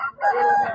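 Rooster crowing at a poultry market in Pileru, a single harmonic crow lasting under a second, loud and close, with faint market murmur beneath.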